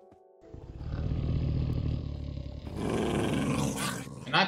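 A wolf-like creature in the Minecraft video game growls and roars in a deep, sustained rumble that swells and rises in pitch toward the end, close and loud with no talk over it.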